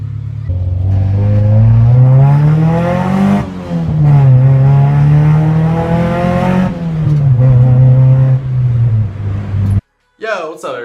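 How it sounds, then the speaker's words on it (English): A Honda Integra engine revs on a test drive, loud and close, with the pitch climbing and falling in several sweeps over a steady drone before it cuts off near the end. "We're gonna go test drive right now, see how it drives"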